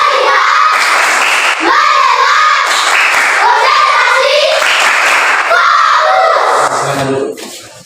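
Fourth-grade schoolchildren in a classroom perform a chanted clapping routine together, loud rhythmic group claps interwoven with their sing-song voices in repeated phrases, ending abruptly.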